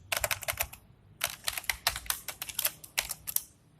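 Computer keyboard typed in quick bursts, the crisp key clicks close and clear, with a short pause between runs and no voices.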